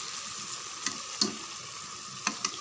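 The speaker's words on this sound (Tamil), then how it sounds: "சிக்கனை இப்போ சேர்த்து நல்லா வதக்கிடலாம்" Chicken stir-frying in a pan for biryani gives a steady close sizzle, broken by a few sharp scrapes and clinks of a spoon against the pan.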